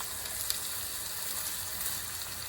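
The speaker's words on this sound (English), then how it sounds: "Now cook it on high to reduce the" Broth with broccoli and sausage cooking on high heat in a pan, a steady bright sizzle and bubbling hiss, constant and close with small occasional pops.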